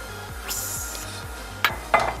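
Graham cracker crumbs being stirred into melted butter in a pot, with soft scraping and rubbing of a utensil against the pot and a couple of sharper clinks near the end, close and fairly quiet, with no talking.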